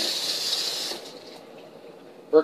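A sprayer hose attached to a washing machine sprays water into the drum, a steady hissing spray that cuts off after about a second, followed by a quieter watery trickle and a brief clunk.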